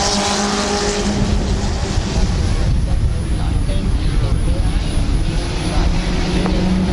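Several race cars at Midvale Speedway, a speedway oval, roar under a green-flag start, a dense engine drone sustained throughout alongside an announcer's voice.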